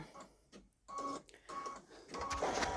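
A Babylock Solaris Vision sewing machine stitches out fabric in quick, mechanical bursts of rapid whirring and clicking, with short pauses between runs, close and moderately loud.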